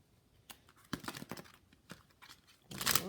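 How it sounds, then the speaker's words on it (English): A deck of cards is shuffled close up, with scattered soft flicks and riffles building to a denser burst of rapid card snaps at the end, quiet and without talk. "Just one more shuffle, guys."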